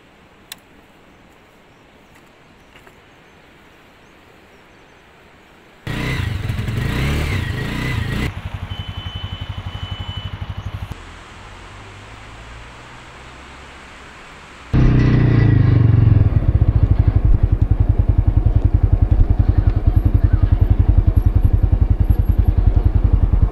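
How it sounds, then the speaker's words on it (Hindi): A motorcycle starts up at a Manali campsite on a ride toward Atal Tunnel, with a loud burst of cranking and revving, a brief lower lull, then a steady, close, loud idle rumble for the final stretch. "अभी फ़िलहाल बाइक स्टार्ट करते हैं फिर मैं निकलता हूँ।"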